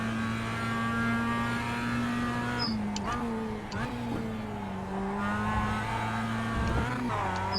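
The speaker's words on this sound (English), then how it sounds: "I got on the throttle a little too much that time." Mazda MX-5 Cup race car engine in iRacing at Lime Rock Park, a steady loud droning tone that dips and rises with throttle and gear changes, with a voice talking over it.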